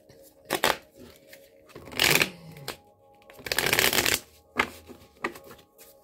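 Tarot cards being shuffled by hand in several separate bursts of crisp riffling and flapping, close and fairly loud, with short quiet pauses between them.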